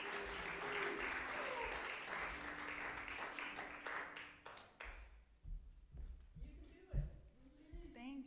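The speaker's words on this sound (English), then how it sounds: "can we give her a round of applause as she comes up?" Audience applause at an MLK spoken word event fills the room as a performer walks up, steady dense clapping for about five seconds, then fading into quieter room noise and scattered sounds.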